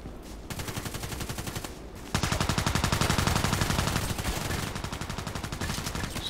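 Heavy automatic gunfire in the online shooter Contract Wars rattles in a rapid, even stream of shots that jumps louder after about two seconds and keeps going to the end.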